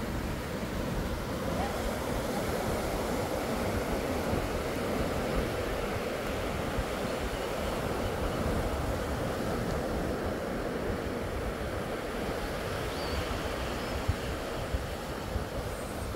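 Ocean waves washing on the shore at a beach wedding, a continuous loud rushing surf mixed with wind buffeting the microphone, steady throughout with no clear breaks.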